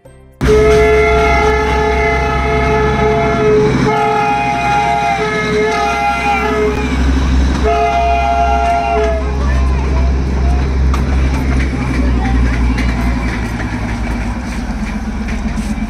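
Darjeeling Himalayan toy train at Batasia Loop near Ghoom, loud and close, its horn sounding in repeated sustained blasts over a steady engine rumble and rolling noise, with faint voices in the background.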